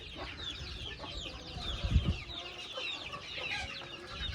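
Chickens in a home flock with chicks cluck continuously at close range. Busy overlapping clucks and soft chirps swell briefly near the middle before settling back.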